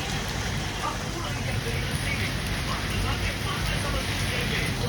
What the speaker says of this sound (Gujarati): વરસાદ ચાલુ થઈ ગયો છે જોરદાર